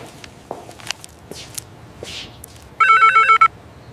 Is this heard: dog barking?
no